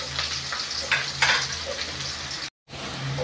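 Onions frying in a pan for snake gourd poriyal, a continuous close sizzle with occasional stirring scrapes and a brief dropout.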